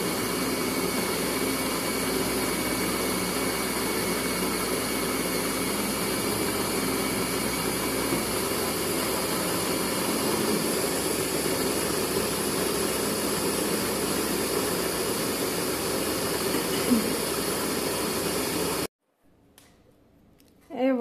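A kitchen blender whirs loudly and steadily while mixing homemade tapenade, running continuously before it cuts off abruptly near the end, followed by faint background sound.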